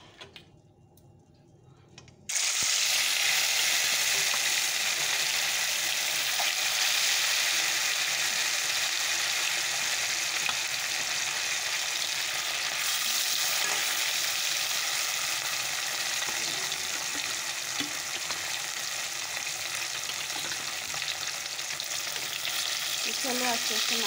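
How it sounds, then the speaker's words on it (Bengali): Katla fish pieces, rubbed with salt and turmeric, frying in hot oil: after a brief quiet start, a loud, dense, continuous sizzle fills the rest, close up and steady, with faint ticking and clinks beneath. "চলো আস্তে আস্তে মাছগুলোকে ভেজে নিই।"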